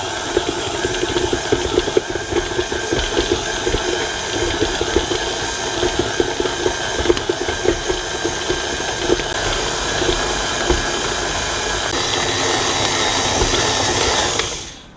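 A stand mixer kneads chocolate tahini babka dough as butter goes in, its motor whirring in a steady, even drone with a faint rhythmic thump throughout, running alone until it cuts off at the very end.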